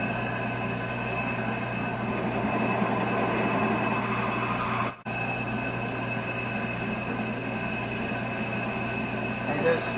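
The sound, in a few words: drill drilling out a stuck part of a Filastruder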